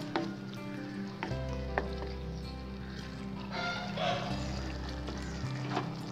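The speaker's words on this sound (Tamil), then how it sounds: "சாஸ் கொஞ்சம் கொதிக்கட்டும்." A pan of sauce for chilli parotta bubbles and sizzles steadily, a soft continuous simmer with faint kitchen clatter and no talking.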